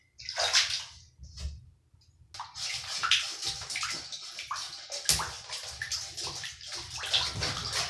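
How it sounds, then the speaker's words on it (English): Baritone horn slides are scrubbed with the soft side of a sponge under running water, a close hiss of flowing water with splashing and sloshing in uneven bursts and a brief pause near the start. "I'm going to use only the soft side to get all the grease and everything off of the slides, outside,"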